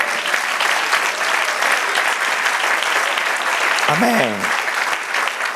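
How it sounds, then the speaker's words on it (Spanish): Dense, steady applause from a church audience fills the room at an even level, with a single voice calling out briefly over the clapping near the end. "Denle otro aplauso al Señor"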